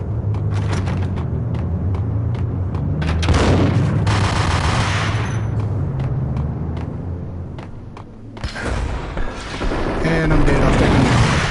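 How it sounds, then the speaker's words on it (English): Gunfire and explosions in the video game Max Payne, with a grenade blast among dense bursts of shooting and booms, loud and continuous throughout, with talk underneath. "Somebody threw a grenade"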